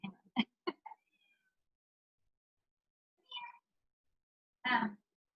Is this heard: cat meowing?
yes